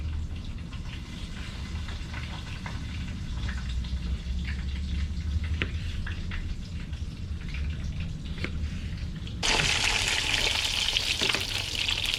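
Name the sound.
catfish frying in hot oil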